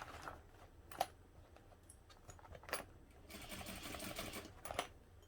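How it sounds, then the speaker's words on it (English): A sewing machine stitches a seam in vinyl, with short, quiet bursts of running stitches broken by sharp clicks and pauses. "here we're going to sew directly along that seam at the top, and then continue down using just under 1/2 inch seam allowance."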